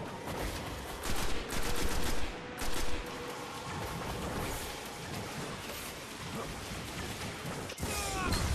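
Dense enemy gunfire in the video game Destiny, rapid overlapping shots and bursts crackling steadily with louder volleys near the start and a sharp blast near the end, busy game effects layered beneath.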